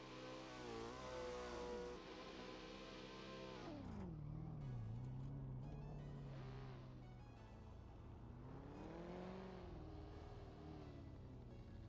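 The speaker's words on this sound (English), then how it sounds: "Listen to that beautiful Corvette. That thing just idles like a beast." Corvette engine at a drift competition, running loud and near with rising and falling revs as it swells and eases, heard alone.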